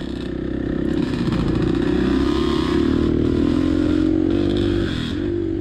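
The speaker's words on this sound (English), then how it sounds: "45 year plus old bike out here just ripping up these trails" A vintage dirt bike, more than 45 years old, ridden hard on wooded enduro trails, its engine droning loud and steady with rising revs and a rattly, clattering undertone throughout.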